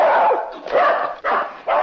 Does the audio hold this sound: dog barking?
yes